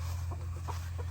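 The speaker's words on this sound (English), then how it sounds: "She's trying to set." A broody hen gives a few soft, low clucks in quick succession, close by, over a steady background hum.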